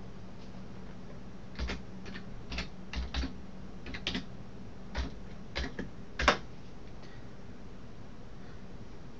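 Username and password being typed on a computer keyboard, a sparse run of soft, separate key taps at an irregular pace, close but quiet against a faint steady background hum.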